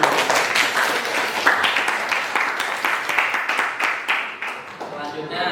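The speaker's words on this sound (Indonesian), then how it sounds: "Terima kasih, tepuk tangan dulu." A classroom of students claps together, uneven bursts of hands at close range that thin out and fade across several seconds.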